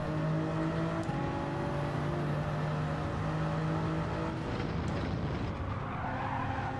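A race car in Gran Turismo brakes hard with tyres skidding and squealing, sustained tonal screech over a droning engine that shifts and roughens near the end, fairly loud throughout.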